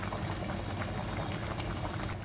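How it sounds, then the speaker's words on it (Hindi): Hyderabadi boti ka salan, a mutton curry with coriander, mint and green chillies, boiling hard in an open pot, a continuous close bubbling and spluttering. "अब इसका पानी है, इसको तेज से पका के थोड़ा पानी को सुखा लेंगे।"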